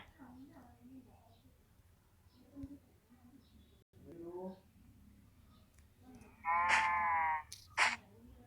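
In Minecraft PE, a sheep gives two short, loud bleats near the end, the first clearly pitched and wavering. Before that, someone talks quietly in the background.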